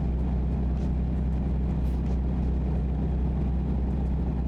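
A new truck's diesel engine drones in American Truck Simulator, a loud, steady low rumble that holds constant throughout with no break and no talking.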